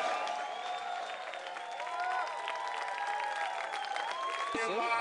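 A crowd applauds and cheers at the 2009 MLG Anaheim championship match, a dense, steady wash of clapping and voices lasting throughout, with a commentator talking over it.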